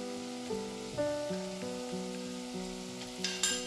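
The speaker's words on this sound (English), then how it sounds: "now we'll add our ginger and garlic and cook for a couple of minutes till the raw smell goes" Ginger and garlic fry in a pan alongside onions for a Goan red chicken curry, a soft, close sizzle with occasional stirring clicks and no voices.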